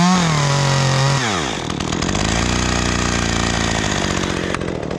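A chainsaw revs loudly up close, its pitch dropping sharply as the chain bites into a maple tree during a removal in Louisville, Kentucky, then settles into a steady heavy cutting drone.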